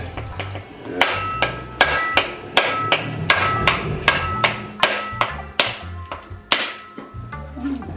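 A rapid series of sharp cracking strikes on a coconut, a dozen or so hard hits in quick succession as it is whacked open, with brief pauses between.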